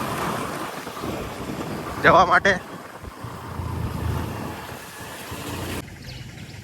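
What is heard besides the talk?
wind noise while riding Honda Activa scooters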